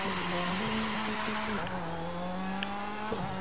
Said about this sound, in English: Now that's drifting.